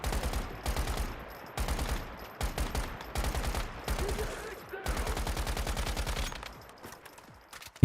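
Bursts of automatic assault rifle fire in the survival game Once Human, with repeated rapid volleys separated by short pauses, loud and close throughout.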